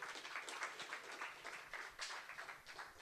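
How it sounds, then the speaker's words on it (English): Audience applause in a room after an interview, a faint, uneven patter of many hands with small surges, quiet and continuous. "Keep the applause going"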